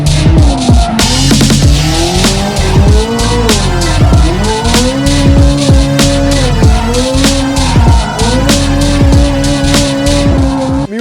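A 670 hp Corvette with old, dried-out tires drifting, its rear tires squealing loudly and continuously over a roaring, revving engine with repeated pitch swoops as it skids.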